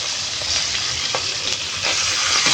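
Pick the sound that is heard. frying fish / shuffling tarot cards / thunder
frying fish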